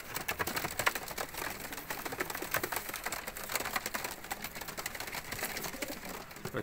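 Pigeons from a lot of flying pigeons offered for sale in Faisalabad coo softly amid steady rustling and clicking, a continuous low-level flock sound with no talk.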